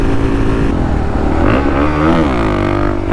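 A motorcycle engine accelerating hard in fourth gear as the front wheel lifts into a wheelie, a loud, close, continuous roar with rising and falling pitch as the rider works the throttle.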